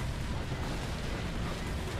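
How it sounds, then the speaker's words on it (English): A bomb blast in the PS2 survival horror game Cold Fear gives a steady, loud, dense roar of explosion and rumble across the whole span, with no talking. "Explosion, reduce visibility for a second."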